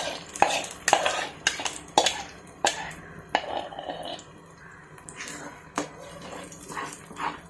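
A spoon stirs gram flour batter into fried onions in a pan, making a run of sharp, close scrapes and knocks in an uneven rhythm that slows toward the end.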